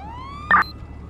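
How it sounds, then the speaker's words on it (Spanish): Police car siren in GTA V with the LSPDFR mod, a rising electronic wail cut by a short loud blip from the horn or yelp tone, close and clear over a quiet game background. "Rubertu, las sirenas apagan."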